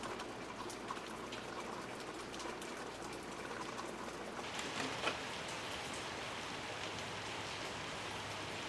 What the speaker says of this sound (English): listening to the rain outside always gets me in a great mood